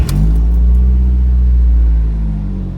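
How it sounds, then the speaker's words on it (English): A car engine starting for the first time after its camshaft position sensor was replaced, with a loud low rumble and steady idle close by that eases slightly toward the end, with no talking. "we're going to do a first start up after changing the camshaft position sensor"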